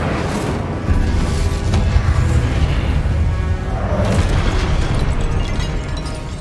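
An Incendio fire spell goes off in Hogwarts Legacy combat as a loud whooshing burst, with dense low rumble and crackle running through the whole stretch and no spoken voices over it.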